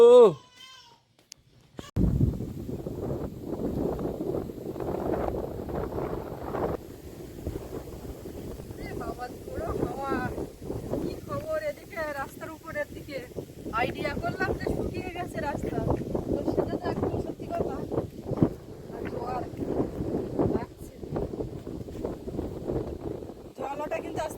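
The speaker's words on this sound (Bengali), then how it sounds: "চারিদিকে যা কালো হয়ে আর এই জোরো হাওয়া হচ্ছে" Gusty wind buffets the microphone in a low continuous roar while people talk outdoors under dark skies in the Sundarbans, with occasional distant animal calls.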